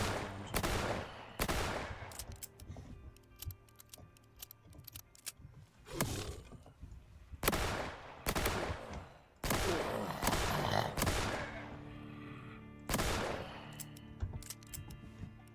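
Gunfire from the Roblox game Reign Fall, including Deagle and Cobra weapons, comes in repeated sharp bursts and single shots spaced across the stretch with brief quiet gaps, moderately loud without talk.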